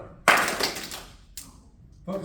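A martial arts class in a library claps once in unison, a sharp burst followed by a softer scattered clap and a third smaller one, close and reverberant.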